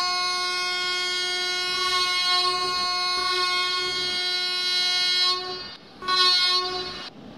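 Two trains in the Indian Train Crossing 3D video game sound long, loud, harmonic horn blasts as they start off, a sustained tone that breaks briefly and then returns in a shorter blast, with no talking.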